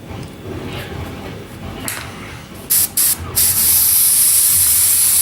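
An airbrush-style spray gun sprays thinned grey paint from its colour cup, starting after a low rumble with a few short bursts of hiss and then settling into a loud, continuous close-up spray.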